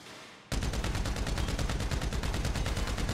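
Rapid automatic gunfire from a machine gun at the Ammu-Nation shooting range in GTA V: after half a second of quiet ambience, a loud, continuous burst of evenly spaced shots runs to the end, with no talk.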